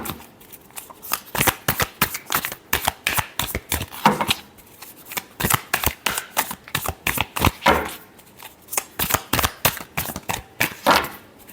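Tarot cards being shuffled by hand, a long run of quick riffling and sliding bursts with short pauses between them, close and fairly loud with no voices.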